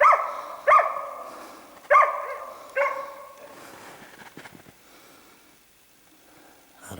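A hunting dog on a sable hunt in Yakutia barks four times at uneven intervals, loud and fairly close, then falls silent apart from faint background noise.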